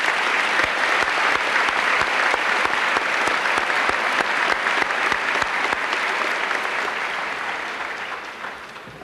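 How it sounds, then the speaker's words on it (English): A large audience at a 1989 Norristown high school commencement ceremony bursts into sustained, dense applause, many hands clapping steadily before the sound slowly thins and fades near the end. "How about another round of applause for all of these students?"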